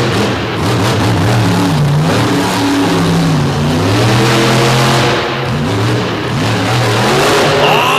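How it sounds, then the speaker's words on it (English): Monster truck Illuminator, a Warp Motorsports team truck, revving hard at a DuQuoin, Illinois show, its engine rising and falling through repeated throttle blips, loud and close with crowd noise underneath. "here is the team truck, team leader Corey Snyder out of Moco in the Illuminator."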